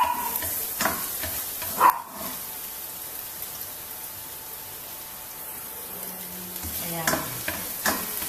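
Garlic sautés in olive oil for spaghetti, a soft continuous sizzle punctuated by a few sharp spoon-against-pan clinks and scraping stirs.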